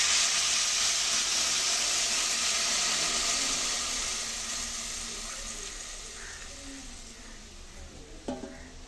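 Coconut milk goes into a simmering drumstick and jackfruit seed curry, bringing a broad hiss and bubbling that slowly fades. A few small clinks of a utensil are heard near the end.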